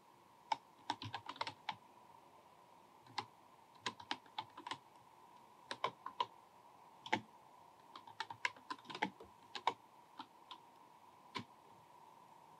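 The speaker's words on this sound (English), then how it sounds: "I'll just type that out for you right now" Python code being typed on a computer keyboard makes irregular clusters of crisp key clicks with short gaps between them, close but quiet against a faint steady hum.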